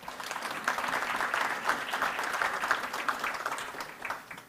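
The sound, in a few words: applause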